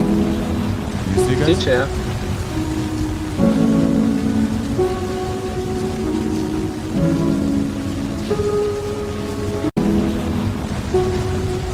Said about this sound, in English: looking through a glass full of like raindrops and like a rain